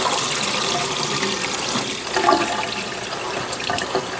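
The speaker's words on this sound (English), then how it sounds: "I'm going to drain them, wash them off. I'll just wash them and get some of that soda off" Running water pours steadily over soaked butter beans as they drain and rinse to wash off baking soda, a continuous close, loud rushing splash with no talk.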